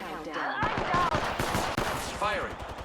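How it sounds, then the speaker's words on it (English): Rapid weapon fire crackles in an Apex Legends match, a quick run of sharp shots in bursts, with a voice talking over the gunfire. "They're shooting at me. Taking fire, friends."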